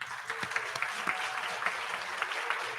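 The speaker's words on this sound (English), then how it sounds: "applause." Applause from the audience at an annual organisational celebration, a room full of people clapping with individual claps popping out of the mix, moderately distant and steady from start to finish.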